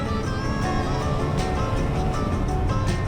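An OBS Chevy pickup with 108,000 miles cruises at highway speed, its engine giving a smooth, even hum under steady road noise heard from inside the cab.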